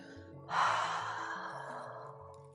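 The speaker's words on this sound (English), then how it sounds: "As you exhale, fold and ha out the breath." A forceful open-mouthed exhale during a yoga forward fold swells suddenly and trails off slowly into a long breathy fade, heard alone over soft background music.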